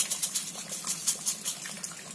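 Boiled, cooled water pours into a glass in short, faint splashing gushes, trickling unevenly for a couple of seconds with no talking.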